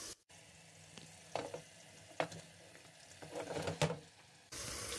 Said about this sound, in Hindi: अब हम इसमें डालेंगे 1 किलो यानी 1 kg बीफ